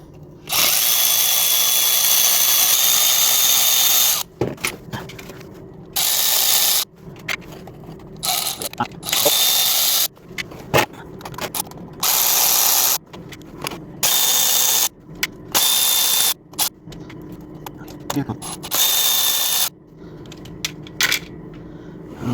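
A ratchet with an 8mm socket loosens transmission filter bolts on a Ram 3500, sounding as loud repeated bursts of rapid clicking, alternating with short pauses, close up and with no talking.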